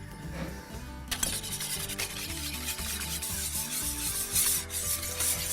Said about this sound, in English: Bring it up to a boil while whisking constantly.